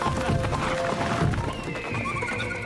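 Cartoon horse galloping with clip-clop hooves and a whinny, busy and close, layered with music and effects in an animated children's adventure.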